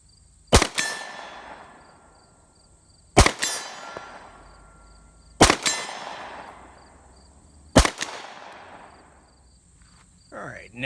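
Glock 19 pistol firing four loud, sharp shots at a steel target roughly 40 yards away, each with a ringing metallic tail, spaced a few seconds apart, with a brief voice at the very end.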